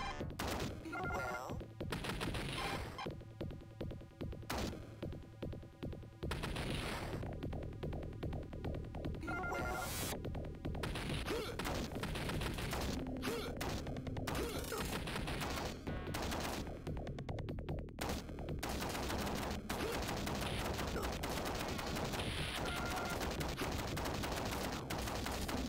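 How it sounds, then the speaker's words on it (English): Gunfire and grenades in the Mega Drive game Demolition Man: rapid chiptune-style shots and bursts rattle constantly over game music, with sharp explosive hits scattered across a long, busy stretch. "Just shoot in every direction and hope that you hit something."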